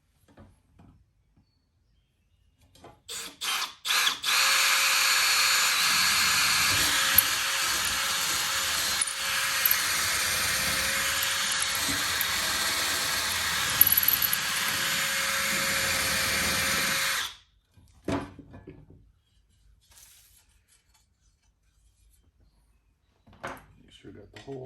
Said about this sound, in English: Let's just see if we can drill through it.